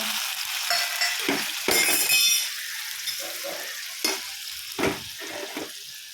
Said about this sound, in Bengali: ফোড়নে দেবো টমেটো বাটা, আদা বাটা